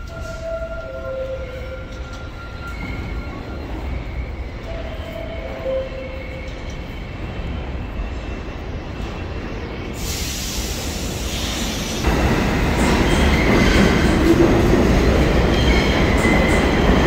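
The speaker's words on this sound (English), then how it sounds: "It's the Manhattan bound Q train." A Manhattan-bound Q train on the New York subway rumbles loudly and steadily throughout, with rail noise building and a brighter, harsher roar as it speeds up partway through.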